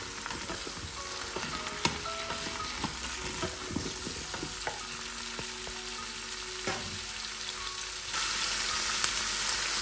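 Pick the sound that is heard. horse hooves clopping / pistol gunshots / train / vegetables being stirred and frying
vegetables being stirred and frying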